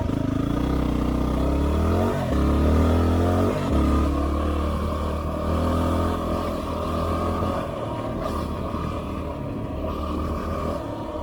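A Yamaha WR250R dirt bike on stock tires rides carefully through sandy, muddy trail terrain, its single-cylinder engine droning steadily with a few throttle blips and rises in pitch, loud and continuous from the rider's position, with no speech.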